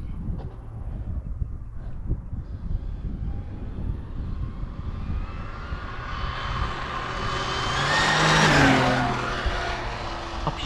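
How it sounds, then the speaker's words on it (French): A small RC car, an FG Mini Challenge body on an SBR 2.0 chassis with a failing transmission, whines continuously, its motor and drivetrain pitch climbing as it swells closer around the eighth second, then fading slightly. "Je trouve que ça fait un joli bruit. C'est la transmission qui lâche, mais c'est pas grave."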